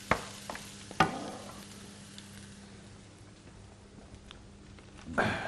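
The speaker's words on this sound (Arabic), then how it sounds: "هسه تومه وزنجبيل وزيت وبصل، بنخليه لما يذبل البصل" Onions frying in oil with garlic and ginger in a home kitchen, a steady low sizzle with stirring clatters near the start and end, close and moderately quiet, no talking.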